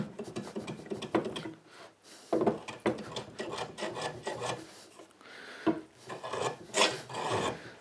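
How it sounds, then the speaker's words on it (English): A hand rasp files across wood to clean up a bandsaw cut on a dovetail-handled serving tray, giving repeated rough scraping strokes in irregular bursts with short pauses between them, close and moderately loud. "Just clean up that bandsaw cut that we left when we divided the two bits."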